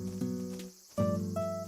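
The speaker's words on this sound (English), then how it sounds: "This is a cicada." Cicada buzzing in the Animal Crossing: City Folk video game, a steady tonal electronic drone that briefly drops out, then resumes with rising pitched tones, close and moderately loud.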